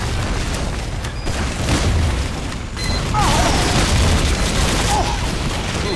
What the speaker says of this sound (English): Sentry gun.